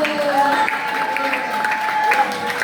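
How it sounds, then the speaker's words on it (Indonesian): Classroom applause for a student at a junior high school health education session, a steady spattering of hands from a group of pupils filling the whole stretch at moderate level, with a faint steady tone running beneath. "tepuk tangan untuk Selo"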